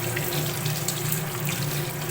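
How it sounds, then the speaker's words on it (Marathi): Mutton being rinsed with clean running water, likely in a colander: a steady, continuous tap stream splashing close by for the whole stretch, with no talking. "मी स्वच्छ असं पाण्याने हे मटण सुरुवातीला धुवून घेणार आहे"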